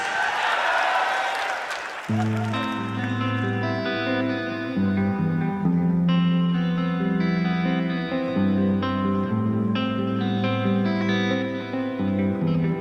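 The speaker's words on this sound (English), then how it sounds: "Cool echo effect." Ambient swell giving way to distorted live guitar and band music drenched in echo and reverb, loud and sustained throughout: a band performing live at the Royal Albert Hall.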